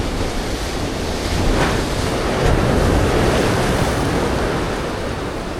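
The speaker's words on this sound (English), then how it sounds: "Gotta wait for the big waves now." Ocean surf breaking against a rocky shoreline at Narooma, Australia, during land-based rock fishing: a loud, continuous roar that swells into a bigger crashing surge midway, with wind buffeting the microphone.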